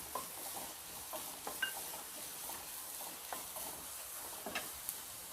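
Chopped carrots sautéing in a pan for vegetable cutlets, a soft steady sizzle with scattered stirring clicks and scrapes, fairly quiet and close, with no talking.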